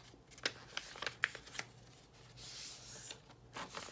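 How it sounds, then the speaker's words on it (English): A sheet of paper being folded in half, giving a few crisp crinkles and creases early on, then a soft rustle as it is pressed flat, close and quiet with no speech. "So I'm gonna fold it in half again."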